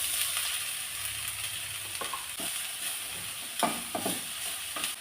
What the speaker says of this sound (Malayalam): ഇനി എടുത്ത് വെച്ചിരിക്കുന്ന ഈ വാഴക്കൂമ്പ് അതിട്ട് കൊടുക്കുവാണ്.